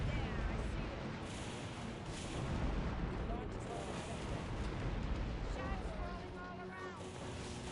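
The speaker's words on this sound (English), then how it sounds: "Shots falling all around, that is true." Artillery shells fall and burst during an Earth 2150: The Moon Project strategy game, a dense, continuous rumble of distant booms and crackling impacts under a steady loud battle wash, with voices mixed in.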